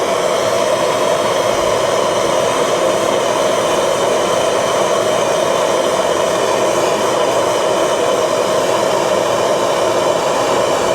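A heat gun heating a car part blows a loud, steady, unbroken whine and rush of hot air, close to the microphone.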